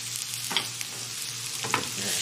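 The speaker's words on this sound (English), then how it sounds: "Let's give it a little stir." Garlic fried rice with Spam sizzles in a pan as a spatula scrapes through it in two quick strokes over a steady hiss, close up and without talk.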